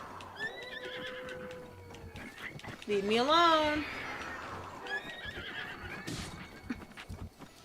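A horse in the video game Zelda Breath of the Wild gives a loud wavering neigh midway, with hoof clip-clops and game sound effects around it and someone talking over the start.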